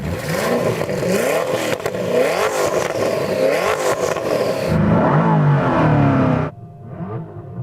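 A Koenigsegg Agera RST supercar's combustion engine revs hard, the pitch climbing and falling in several loud bursts before dropping off to a quieter idle.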